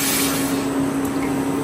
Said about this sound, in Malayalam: ഇതിലേക്ക് രണ്ട് ഗ്ലാസ് വെള്ളം ഒഴിച്ച്